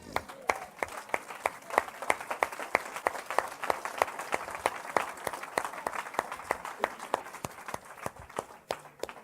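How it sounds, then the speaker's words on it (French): A church congregation claps together in a fast, dense, continuous round of applause for several seconds, fairly close, with faint crowd voices beneath. "On acclame la parole du Seigneur."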